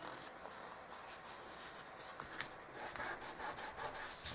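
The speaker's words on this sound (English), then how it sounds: "I'm rubbing my edges because that mono adhesive went over the edge in some spots and just getting it off." Edges of a paper mini album are rubbed to clear mono adhesive, giving a faint, continuous dry scratchy friction close by with no talk.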